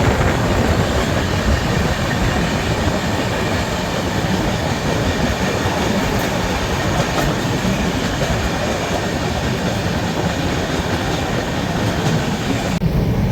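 A Rajdhani Express train departs from Agra, heard from on board as a steady, loud rumble of wheels on rails with faint clickety-clack and no talking.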